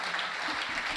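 Steady, dense applause from a packed hall audience at a Hindi poetry recitation, continuous and evenly loud for the whole stretch with no voices over it.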